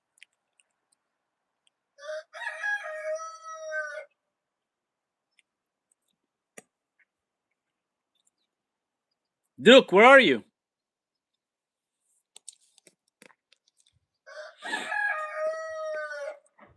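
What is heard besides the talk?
rooster crowing in the morning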